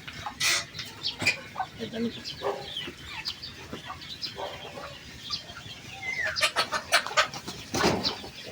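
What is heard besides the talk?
chickens clucking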